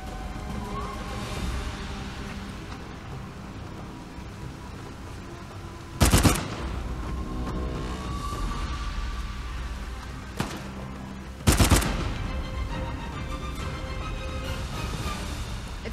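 Two loud, sharp bursts of gunfire erupt in an Uncharted 4 shootout, a few seconds apart, over a constant low game ambience.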